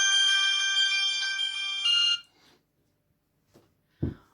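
A mobile phone ringtone plays loud and close for about two seconds, a bright repeating electronic melody, then cuts off into near silence broken by a couple of small handling knocks.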